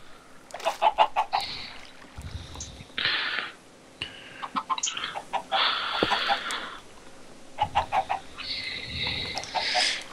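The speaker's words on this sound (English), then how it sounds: "I'm trying to make chickens have sex" Blocky Minecraft chickens cluck in short, repeated bursts of several quick notes, coming and going with brief pauses between, close and fairly loud with no one speaking.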